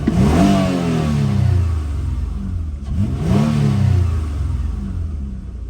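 A car with a stock factory intake and exhaust is revved twice in quick succession, each rev rising and falling in pitch, then settling back to a steady idle, loud and close with no talking.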